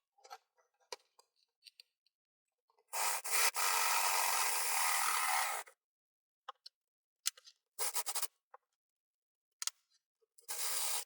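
Drill boring a hole in a 3D printer part for an Ender 3 Pro gantry mod, a sustained whine of about three seconds followed by shorter bursts, with light clicks and handling noises between them.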